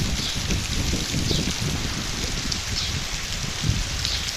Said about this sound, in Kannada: ಮಳೆ 3 ದಿನದಿಂದ ಜೋರಿದೆ